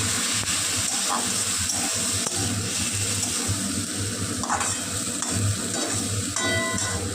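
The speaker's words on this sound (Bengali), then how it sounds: "টমেটো কুচি দিয়ে ভালোভাবে নাড়িয়ে নিচ্ছি" Chopped tomato stirred into a semolina and sour yogurt mixture in a pan, producing a continuous wet bubbling and sizzling texture with occasional scrapes, moderately loud and close throughout.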